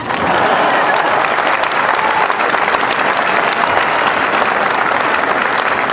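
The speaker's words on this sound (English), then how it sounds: "That deserves an applause" An outdoor graduation ceremony crowd applauds in a loud, continuous roar of clapping from a large audience, steady and unbroken for the whole stretch.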